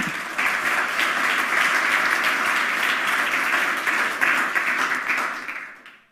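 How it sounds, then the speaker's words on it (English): Audience at a hacker congress lecture applauds a speaker being introduced, a dense steady wash of many hands clapping for about five seconds before tapering off and fading out. "Please give her a round of applause."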